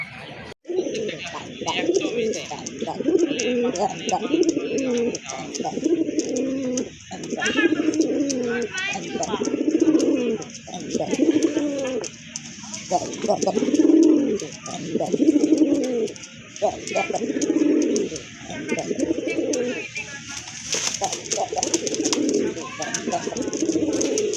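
A pair of large Madrasi Golla pigeons coo in a steady run of repeated rolling calls, close and clear, with faint background noise throughout.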